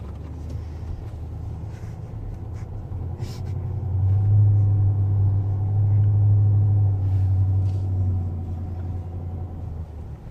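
A Range Rover's engine rumbles low and steady, swelling louder midway as it crawls up and over an off-road ramp, then easing back down.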